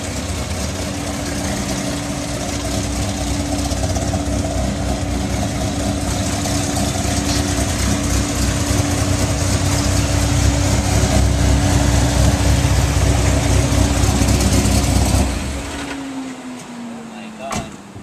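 Engine of a Porsche Cayman GTS idling steadily at close range after pickup for a first drive, a constant low rumble that winds down near the end.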